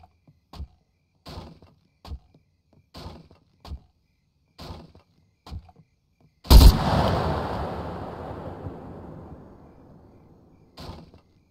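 In the survival game SCUM, a single loud gunshot bursts out and rings off into a long fading echo, set between a run of evenly spaced muffled thuds before and after it.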